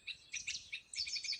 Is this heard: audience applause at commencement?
no